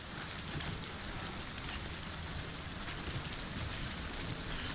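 Steady, dense rain hissing down in the video game Death Stranding, a constant even wash of drops on surfaces with no break, moderately loud and uninterrupted.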